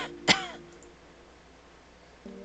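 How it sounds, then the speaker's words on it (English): A character in the game Choices: Endless Summer lets out a single short, harsh cough or throat-clear, close and clear, followed by quiet with faint background tones. "Quinn surrenders to a coughing fit."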